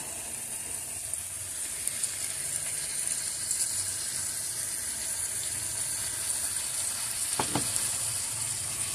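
Taro stolons cooking with hilsa fish and mustard paste give a steady, moderate sizzle, with a couple of brief utensil scrapes near the end and no voices.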